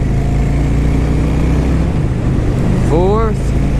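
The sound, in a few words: car engine accelerating while shifting up through the gears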